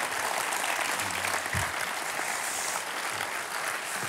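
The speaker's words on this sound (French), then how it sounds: "Allez, on l'applaudit encore, on s'assoit" A French theatre audience applauds steadily in a dense, continuous wash of clapping that fills the room at an even level from start to finish, with a faint low voice murmuring partway through.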